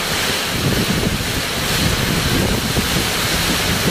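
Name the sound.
strong wind during a storm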